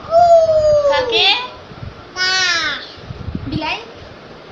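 A voice imitates a crow's caw: three loud, drawn-out, nasal calls close by, with pauses between them.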